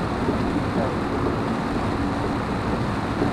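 Heavy monsoon rain drums steadily on a car driving from Thane towards Surat, a dense continuous roar of water and road noise from inside the cabin with no clear talk.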